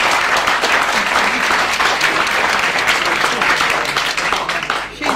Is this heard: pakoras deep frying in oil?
no